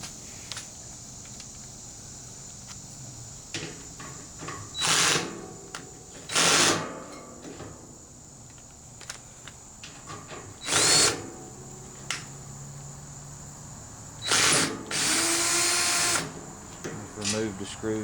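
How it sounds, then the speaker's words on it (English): A cordless drill whirs in several short bursts separated by pauses, removing screws from an AC condenser fan's wire holder, close by, with quiet clicks and handling noises between runs. "Then we're going to just take our drill."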